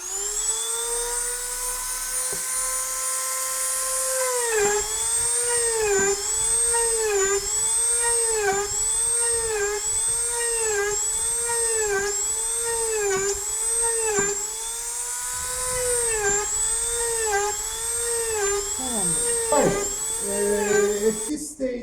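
A high-pitched rotary drill with an engraving bit whines steadily, its pitch dipping in a regular rhythm as it bites into the material, close and continuous throughout.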